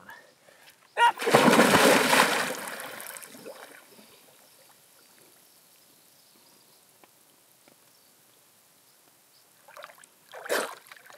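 Someone jumps into a frigid lake in Patagonia, near Puerto Montt, making one loud, close splash that swells and then fades. Splashing water stirs faintly afterward, and voices come in near the end.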